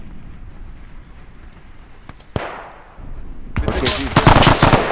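Machine gun fire in the ArmA 3 video game, a World War II mission: after a quiet stretch with a couple of isolated shots, loud rapid bursts of automatic fire erupt and continue to the end.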